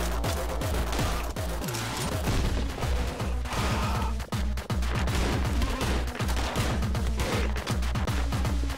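Rapid gunshots in the video game Anger Foot crack one after another in a dense, loud, continuous barrage with brief gaps, and no voice is heard over them.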